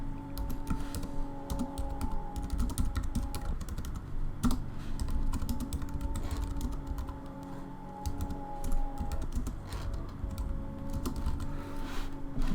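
Rapid typing on a computer keyboard, a close, continuous run of light key clicks with occasional heavier taps, steady and unbroken with no talk over it.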